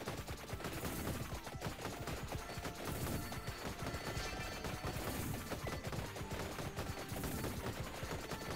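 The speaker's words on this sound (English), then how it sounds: "Actually, a very big explosion from the Mirage Robe." Mirage Robe explosions in the video game Vampire Survivors form a dense, continuous barrage of rapid crackling bursts, like sustained gunfire, steady and loud, with no talk.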